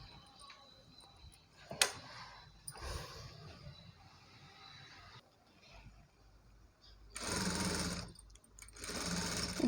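A sewing machine stitches piping onto the neck of a Punjabi dress top, running in two rapid buzzing bursts near the end after quieter handling noises and a sharp click.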